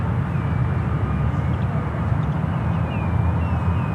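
An EVA Air Boeing 777-300ER airliner lines up on runway 28 Left at San Francisco airport, heard as a steady, loud engine rumble and roar that holds evenly throughout.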